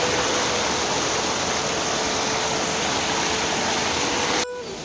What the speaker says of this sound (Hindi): तो ये देखिए जब पानी का झरना